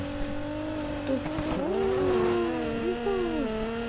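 A drag car in Need for Speed revs its engine with rising and falling whines and pitch sweeps, loud and close, for a few seconds.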